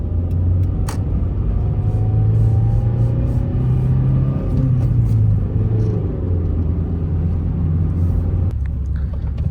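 A JDM Honda Fit driving with its engine rumbling close by, revs holding steady then dipping and changing as gears are shifted, a brief clunk near the end as the sound settles.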